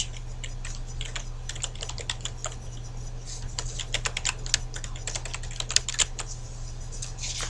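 A computer keyboard types a color swatch name in a steady stream of quick, close keystrokes over a faint low electrical hum, with no talking.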